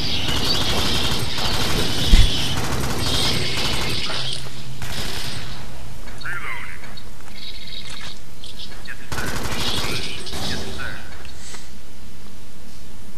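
Rapid automatic gunfire in the co-op shooter game Alien Swarm, loud mechanical rattling bursts running through most of the stretch with brief pauses, with players talking over it.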